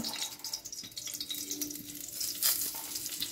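Cumin seeds crackle and sizzle in hot mustard oil in a home kitchen, a bright hissing spatter with small pops that swells briefly partway through.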